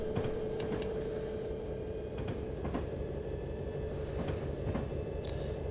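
A train in the Train Simulator game, with a steady low engine rumble and a faint high whine, and occasional sharp clicks and clanks of rail and couplings throughout.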